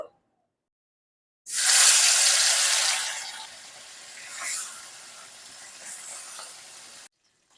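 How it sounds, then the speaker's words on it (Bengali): Small fish hitting hot mustard oil in a wok, bursting into a loud, bright hiss that gradually eases to a steadier, quieter sizzle, close up with no talking. "মাছগুলো ভেজে নেব"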